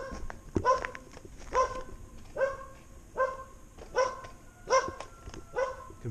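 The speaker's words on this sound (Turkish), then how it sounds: "Köpekler başıma bela." Dogs bark outdoors in a village neighbourhood, a regular run of about eight loud, clear barks spaced under a second apart, fairly close to the listener.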